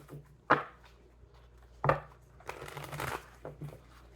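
Tarot cards are shuffled by hand in a quiet room, giving two sharp riffling snaps followed by a longer soft rustling shuffle and a few lighter card taps, close and fairly faint.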